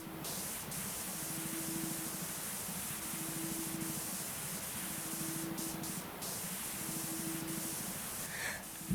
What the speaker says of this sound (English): Let's just be ridiculous with our spray.